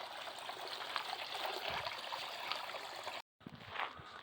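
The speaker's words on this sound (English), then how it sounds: "I don't know what you call it, waterfall?" Small waterfall in castle grounds, a steady rushing and trickling of water heard at moderate distance, continuous apart from a brief break near the end.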